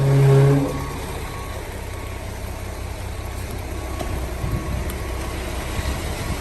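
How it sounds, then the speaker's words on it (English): Cement truck backing up at a construction site pouring concrete, a steady diesel engine rumble droning continuously at close range after a brief louder onset. "And the truck's just backing up."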